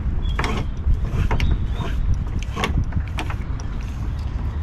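A rope running through a pulley on a Mirror dinghy rigged for centre sheeting, with close, repeated creaks and rubbing squeaks in irregular pulses over a low rumble, no voices.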